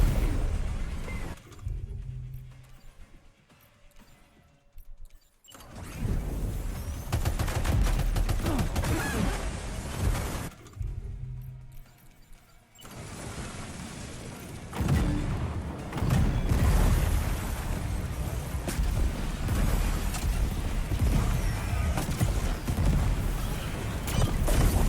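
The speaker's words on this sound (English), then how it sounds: "Oh, this rocket launcher is awful." In Death Stranding 2, a rocket launcher fires in a string of heavy blasts and booming impacts, with quieter pauses between bursts before a long stretch of sustained, rumbling explosions and gunfire.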